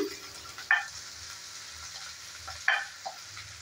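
Chopped large onion frying in a pan, a soft, steady sizzle with a few sharp clinks of a spatoon or utensil against the pan; no talk.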